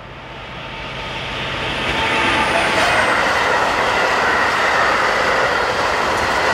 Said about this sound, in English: Heading north with a trainload of hoppers is 75014, seen passing through the station at Longueuil-Saint-Marie.